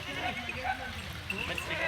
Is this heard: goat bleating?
yes